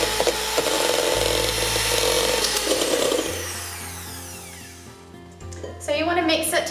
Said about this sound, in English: Take my mixer and you're just going to keep mixing it together till it gets quite light and fluffy